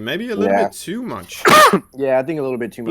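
A sneeze bursts out once in the middle of commentary for a StarCraft II match with Terran play, loud and abrupt between stretches of two casters talking.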